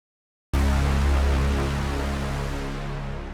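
A deep, sustained low-end brum swell for the drop of a synthwave metalcore track enters after a half-second of silence, loud and rumbling with tonal low bands, slowly decaying over about three seconds with no voices.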